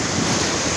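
Rough sea surf washes onto a beach in a steady broadband roar mixed with wind buffeting the microphone, close and continuous with no voices.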